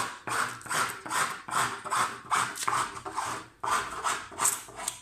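A laminate kitchen worktop edging strip is cut with short inward strokes, giving a regular series of rasping, scraping bursts close by, about two each second, with brief gaps between them.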